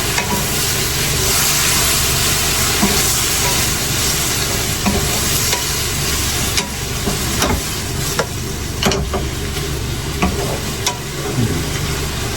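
Food fries loudly in a pan just after soy sauce goes in: a dense, continuous sizzle with occasional sharp stirring scrapes, close and steady from start to finish.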